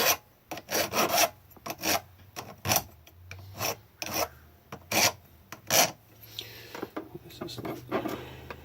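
A metal file rasps by hand across an unclamped aluminum case in repeated strokes, loud, close and irregular, with short pauses between bursts.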